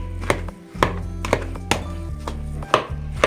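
Hot potatoes for a pie filling are mashed in a bowl, a run of about eight regular thumping strikes, close and fairly loud, with no talk.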